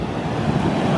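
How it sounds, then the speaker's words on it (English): Ocean surf at La Jolla beach gives a constant broad roar of crashing waves, mixed with wind buffeting the microphone, loud and uninterrupted for about a second. "Crazy waves out here."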